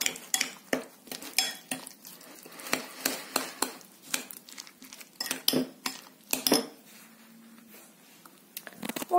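A spoon stirs a mixture of cottage cheese, eggs and sugar in a bowl, with repeated sharp clinks and scrapes in an uneven rhythm, close and fairly loud, ending in a quieter pause.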